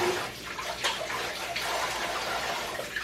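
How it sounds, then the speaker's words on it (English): Running tap water splashes over hands being washed in a home kitchen during Thanksgiving cooking, a steady broadband rush with no talk over it. "I gotta wash my hands again."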